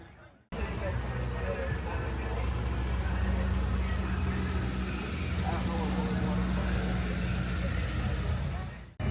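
A 2008 Chevrolet Corvette engine runs steadily at a low idle, a constant rumble that starts abruptly and holds for several seconds amid background crowd chatter at an outdoor vehicle show.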